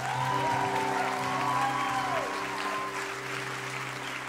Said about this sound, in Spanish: un aplauso a los músicos también